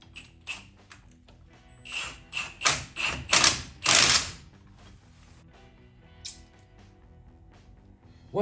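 A ratchet wrench clicks in short bursts while nuts with lock washers are tightened onto a Ford 9-inch third member, a series of close, crisp ratcheting strokes followed by quieter scattered clicks.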